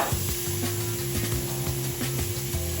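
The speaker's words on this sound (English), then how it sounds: "I'm going to take these onions and garlic now and throw it into this pan over here" Onions and garlic sizzle in a hot pan, a bright, steady frying hiss, close and loud, with faint stirring knocks and tonal kitchen hum underneath.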